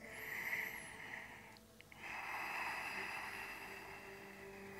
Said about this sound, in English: Take two more breaths.